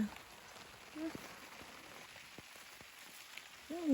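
Rain falls in a forest during mushroom picking, a faint, steady patter of drops on leaves and ground with scattered distinct taps, while a voice speaks briefly at the start and end.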